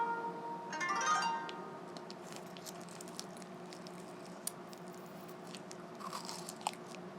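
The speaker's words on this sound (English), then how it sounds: "I get to listen to my obnoxious chewing" Crunchy popsicle being chewed close up, a louder crunching burst early on followed by quieter intermittent bites and squishy chewing against a faint steady room hum.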